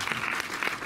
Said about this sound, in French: On peut applaudir UFO, Stéphane et Claire qui sont là.